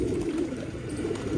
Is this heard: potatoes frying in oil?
no